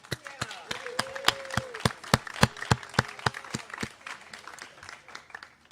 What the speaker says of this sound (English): I'd just like to give all our volunteers a round of applause